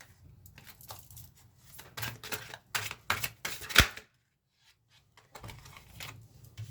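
Tarot cards being shuffled by hand, a run of quick papery riffles and slaps in short bursts, with a brief pause before the shuffling starts again, close and alone.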